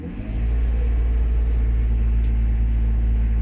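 Mercedes S600 with a V12 engine being revved to around 3,000–4,000 RPM during mass air flow repairs, a steady, loud, deep engine drone that holds constant after a quick rise at the start.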